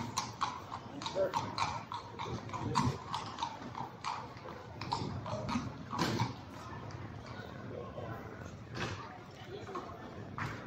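Horse hooves clip-clop on a street in Seville, moving in a steady rhythm close by, while people talk over the sound.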